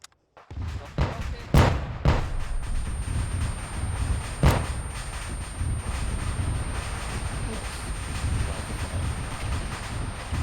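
Anti-tank rocket launched at an enemy BTR armored vehicle in the Arma 3 military simulator, with two sharp, loud launch blasts early on and another later, over steady rumbling battlefield noise and wind.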